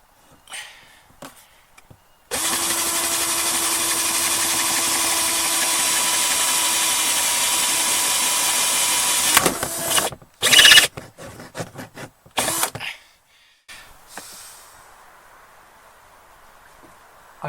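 A power drill enlarges pilot holes in timber for butterfly bolts, a steady loud whirring run of about seven seconds followed by short bursts and clatter, with quiet pauses either side.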